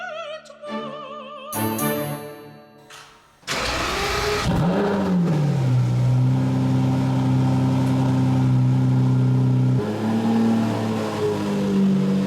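A Lamborghini Murcielago Roadster's big engine cranks, catches and roars to life on a snowy day, then settles into a loud, steady idle with a brief blip of revving near the end.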